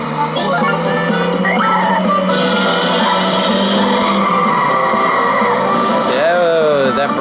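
Karts in the PS2 game Bomberman Kart brake and skid with a sustained tire squeal over racing engine drone and game music, ending in a sharp rising-falling screech near the end.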